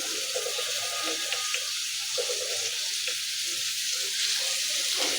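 Peanuts and potatoes frying in a pan give a loud, dense, unbroken sizzle up close, steady from start to finish.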